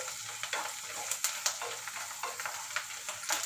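Onion, garlic and sundakkai frying in hot oil, a quiet continuous sizzle with frequent small pops and crackles.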